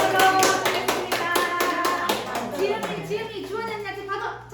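During a Sunday church worship service, the congregation claps together in a steady, rhythmic beat, loud and close. The clapping fades after a couple of seconds as adults and children start talking.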